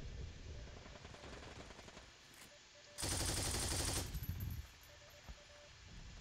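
Weapon fire in a video game: sustained automatic shooting crackles at moderate distance, then a loud, dense one-second burst of close fire before the shots fall back to scattered rattling.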